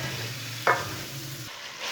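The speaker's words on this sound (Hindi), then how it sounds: "अच्छी तरह मिक्स करके इसे भी 2 मिनट तक भून लेंगे" Chicken dal is stirred and fried in a pot, giving a soft steady sizzle with a single sharp scrape of the spoon partway through, close and fairly quiet with no talking.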